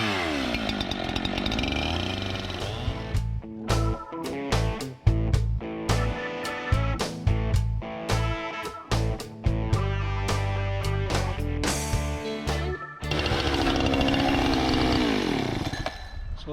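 A chainsaw cuts a notch into a log during a log project, its loud engine revving steadily, then chopping into bursts as the chain bites and eases off, before roaring continuously again near the end.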